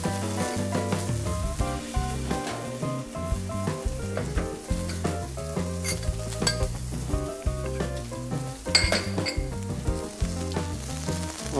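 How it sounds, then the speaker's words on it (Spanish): Salmon sears skin-side down in a hot pan, giving a loud, steady sizzle and crackle that runs throughout with occasional pan clinks. No one speaks. "Primero se sella el salmón por la parte de la piel, para que nos quede como un chicharroncito."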